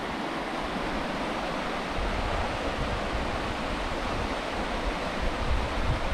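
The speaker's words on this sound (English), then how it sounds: "and I mean, right by the river." The Pratt River flowing in the Alpine Lakes Wilderness near North Bend, Washington, a constant close rushing roar of water that stays loud throughout, with no voices.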